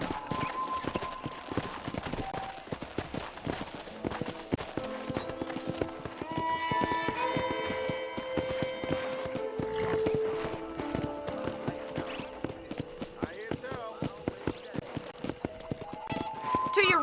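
Horse hooves clip-clopping at a quick pace across ranch ground in the Western video game Red Dead Redemption, mixed with game music, an occasional whinny and a voice talking over it throughout.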